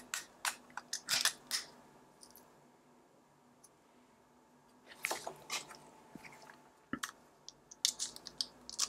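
A tuned handle is fitted onto a Shimano Ultegra C3000 spinning fishing reel, giving quiet, sparse clicks and small mechanical taps in short bursts with pauses between.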